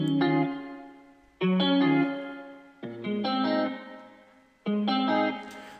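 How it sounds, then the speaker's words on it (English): A guitar loop in FL Studio run through reverb with the low cut lowered, playing four phrases of plucked, effected chords, each starting loud and swelling into a lingering wash that fades before the next, with no voices. "the guitar loop doesn't have a lot of low end, but that reverb gave it a little bit of lower frequencies to stand out"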